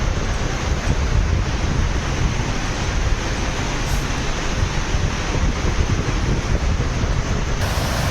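Steady broadband roar of rising waves on the Yamuna river during heavy rain and flooding, loud and continuous with wind-like rush and no voices throughout.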